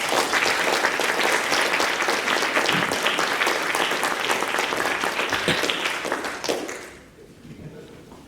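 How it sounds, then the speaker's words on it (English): Sustained applause from an evening audience welcoming a guest speaker at a historical talk, a dense, loud wash of many clapping hands that holds steady for about seven seconds, then fades quickly into quiet room tone. "So please give him a round of applause as he talks tonight about Pat Neff."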